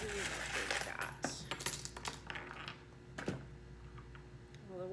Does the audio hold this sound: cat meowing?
no